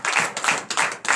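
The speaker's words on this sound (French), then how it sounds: "Donnez l'acclamation" A church congregation at a morning prayer service in Benin claps in loud, rhythmic bursts, about four quick waves of hand claps close by, with no talking.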